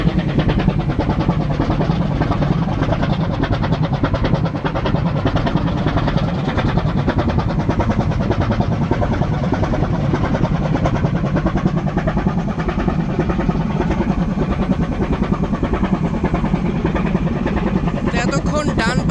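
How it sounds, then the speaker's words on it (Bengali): Right-side engine of the Parabat 12 river launch, a steady, loud mechanical drone running continuously at close range for the whole stretch, with a faint murmur of voices in the background. "এই ইঞ্জিনের হৃদয়কারা সাউন্ড কিছুক্ষণ শ্রবণ করব"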